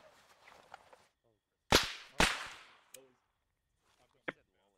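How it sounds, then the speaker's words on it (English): Supersonic bullets crack past in a video game as two sharp, loud whip-like snaps about half a second apart, followed by a fainter crack and a later snap, with voices talking before and after. "It might be silence, but it's still supersonic, and I still hear the fucking whip."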